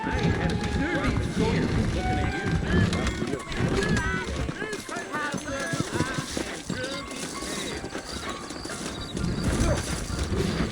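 Horse hooves clip-clop steadily at a brisk pace throughout in Red Dead Redemption, with occasional horse snorts and a voice talking over the game sounds.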